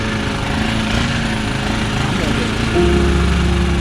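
A motorbike engine idles close by with a steady, rough putter that rises slightly in pitch toward the end, running loud and continuous without pause.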